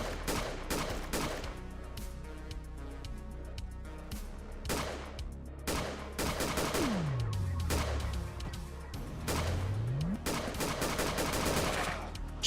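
Repeated gunfire bursts from the retro video game UFO 50's Bullet Noir, sharp shots in clusters over a busy game soundtrack with swooping tones, loud and continuous throughout.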